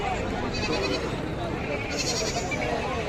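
A young male goat bleats at a busy livestock market, its calls rising repeatedly over dense crowd noise while someone talks close by.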